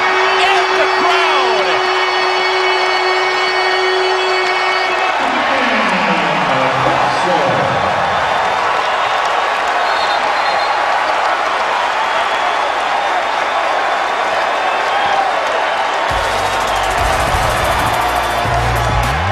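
A college basketball arena crowd roars and cheers loudly at a Wake Forest versus Louisville game, with a broadcast commentator talking over the sustained din.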